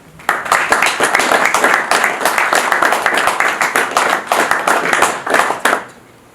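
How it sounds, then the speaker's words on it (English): A small gathering applauds newly installed officers at a ceremony, brisk dense clapping starting sharply, holding steady for several seconds at close range, then tapering off. "Ladies and gentlemen, a round of applause for our new officers."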